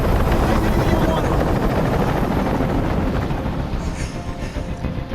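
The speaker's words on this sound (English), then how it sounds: "I can't stand that noise anymore! Tell that helicopter to get out of here!" Helicopter noise in a video game: loud, continuous rotor and engine roar with dense rumbling texture, easing slightly toward the end.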